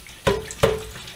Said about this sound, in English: I quite like to give this a rinse underwater